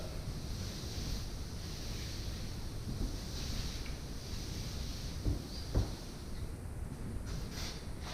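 A mop scrubs grout on a tile floor with a continuous, soft, broadband swishing. A few faint knocks punctuate the steady rubbing.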